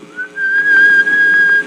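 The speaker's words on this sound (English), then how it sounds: "He pushed it open and gave a shrill whistle." A shrill, sustained human whistle on one steady high pitch, rising slightly at the start and then holding for over a second, loud and close with no talking.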